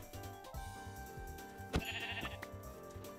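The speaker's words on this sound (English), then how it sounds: "Kill the sheep." Sheep in the video game Minecraft bleating over a quiet, rhythmic background music loop, one clear bleat standing out in the middle with a few softer game sounds around it.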